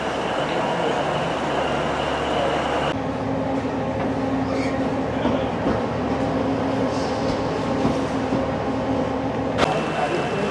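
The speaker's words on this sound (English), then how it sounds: "So here's our train." A train on the Heart of Wales line rumbles past nearby with a steady mechanical roar and rattling, its tone shifting partway through, with no voices heard.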